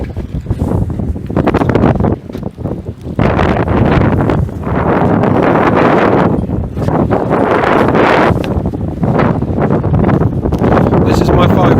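Strong wind buffets the microphone outdoors beside a live-aboard boat or yacht, a loud continuous roar with gusts swelling and easing, and a voice talks faintly underneath.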